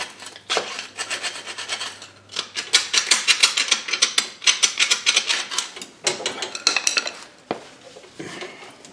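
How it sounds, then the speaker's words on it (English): Metal scraper rasping corrosion off the rear brake caliper of a 2005 Buick Rendezvous, a steady run of close, loud, gritty strokes with brief pauses between bursts. "I'm just scraping corrosion off of here just to clean it up"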